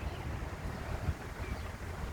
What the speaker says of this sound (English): Very windy, as you can see